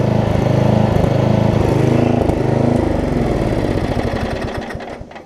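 Murray riding lawn mower engine running loud and close, a steady chugging putter that slowly winds down and fades toward the end.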